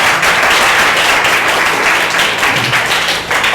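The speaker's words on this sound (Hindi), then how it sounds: "तो सबसे पहले ताली बजाइए अपनी माँ के लिए" An audience claps through a Teacher's Day celebration at a coaching academy, a loud, dense, sustained burst of applause from many hands that continues throughout.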